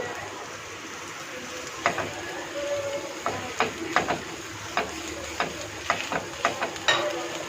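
Boiled, shredded chicken breast frying in a pan, a low steady sizzle broken by irregular sharp clinks and scrapes of stirring, close by and moderately quiet, with no voices.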